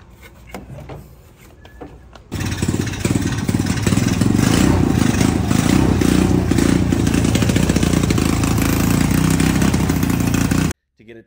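A mini jeep engine with a recently adjusted carburetor fires up after a few quiet seconds and then runs steadily and loudly close by. It keeps a rough, even drone before cutting off abruptly.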